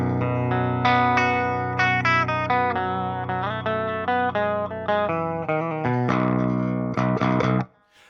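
Electric guitar fitted with Fishman Fluence active pickups, played on an amp's clean channel: a steady run of ringing chords and picked notes, close and loud, that stops abruptly near the end.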